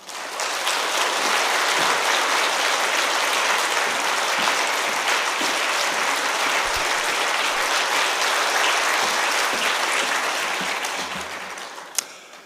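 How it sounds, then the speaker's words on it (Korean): A church congregation at a Wednesday service applauds steadily as a pastor comes forward, a dense, sustained wash of clapping filling the hall for about twelve seconds before tapering off at the end. "큰 박수로 모시도록 하겠습니다"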